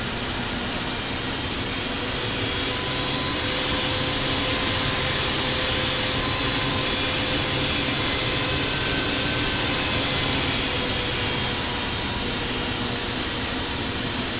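A large jet airliner cruises over the Rockies in the Infinite Flight video game, producing a steady, dense engine roar and airflow hum that stays loud and unbroken throughout.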